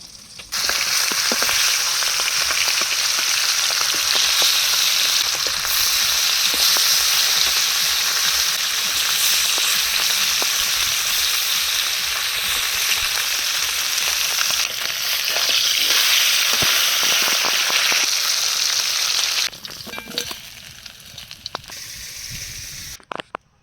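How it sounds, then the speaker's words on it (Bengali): Fish frying in hot oil gives a steady, loud sizzle and hiss that runs nearly unbroken throughout, easing off briefly near the end, with no talk. "ল্যাংচা শাক রান্নার জন্য প্রথমে মাছগুলো ভেজে নেব"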